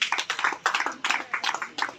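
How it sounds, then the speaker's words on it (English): Scattered, uneven hand clapping from a small audience at a corporate woodball circuit awards ceremony hosted by Bugema University, close and fairly loud, in a few irregular bursts. "Please clap for Bugema University"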